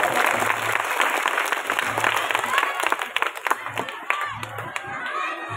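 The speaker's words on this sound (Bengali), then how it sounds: "এটা জোরে হাততালি দেবো আমরা সবাই" An audience claps loudly and steadily at a cultural function at Moral Public School, with dense, sustained applause and a few louder individual claps near the end.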